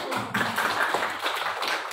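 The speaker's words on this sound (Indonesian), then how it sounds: "Oke, tepuk tangan sekali lagi." Students in a classroom clap together in a short, close burst of uneven, overlapping hand claps lasting about two seconds.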